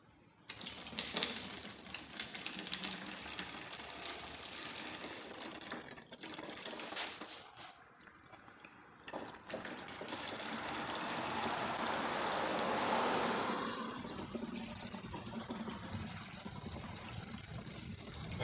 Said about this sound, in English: Alright, there we filled up that gallon.